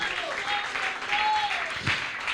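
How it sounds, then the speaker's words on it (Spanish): A congregation applauds in church during a Pentecostal service: dense, continuous clapping with a sustained musical tone and faint voices underneath. "¿Cuántos le dan un fuerte aplauso al Señor de alabanza?"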